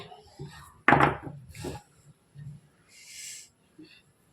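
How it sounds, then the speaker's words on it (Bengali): A knife cuts rolled nimki dough on a wooden board, producing a few sparse, dull taps and thuds close by with quiet pauses between strokes. "এবার বাকি নিমকিগুলোকে আমি কেটে নেই"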